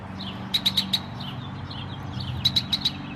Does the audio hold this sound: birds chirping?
yes